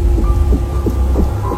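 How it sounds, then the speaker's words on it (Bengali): Heavy rain pours steadily in an animated Bengali horror cartoon, a loud, dense downpour hiss with a low rumbling undertone, and no voices. "কিন্তু সৌরভ কোনো কিছুতে ভয় না পেয়ে আস্তে আস্তে বৃষ্টির ভিতরে বাড়ির দিকে এগিয়ে যাচ্ছিল"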